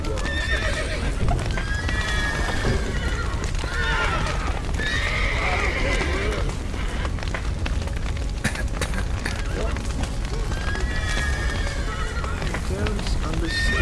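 Horses in The Witcher 3 video game whinny repeatedly and their hooves clip-clop at a run, loud and continuous under rumbling game ambience and a voice talking.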